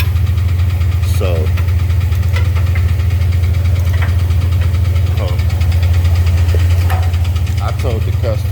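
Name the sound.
LS engine idling with tapping, ticking or light knock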